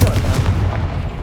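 A Confringo fire spell exploding in the game Hogwarts Legacy, a loud, deep rumbling blast that rolls and fades over about a second with no talk.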